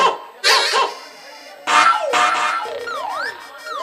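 A dog barks in short, loud bursts during a Kannada stage comedy play. Several barks are spaced across the moment, followed by rising and falling siren-like wails.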